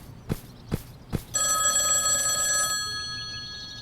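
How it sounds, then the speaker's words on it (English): A telephone rings in a horror video game set in a house, coming after three sharp knocks or footsteps with a loud sustained electronic bell tone that fades out, heard alone. "I thought that phone wasn't working."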